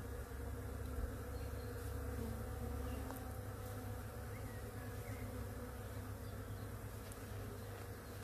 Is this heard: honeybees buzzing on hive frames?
yes